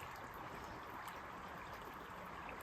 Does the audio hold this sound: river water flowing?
yes